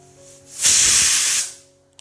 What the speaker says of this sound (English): Open it only after the pressure is released.